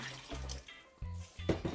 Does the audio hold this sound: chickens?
no